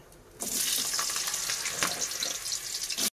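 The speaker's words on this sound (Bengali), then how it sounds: "তেলের মধ্যে আলুগুলো আমি লাল করে নেব।" Potato pieces drop into hot oil seasoned with whole garam masala and bay leaf in a kadai, bursting into a loud, steady sizzle that holds for a few seconds and then cuts off abruptly.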